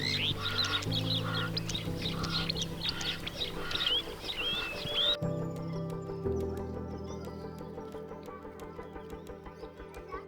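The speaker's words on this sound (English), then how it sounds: "there's just bird sounds everywhere" Many birds call and chirp at once in Kruger National Park, South Africa, loud and close, with the chorus thinning partway through into sparser calls over a low background drone.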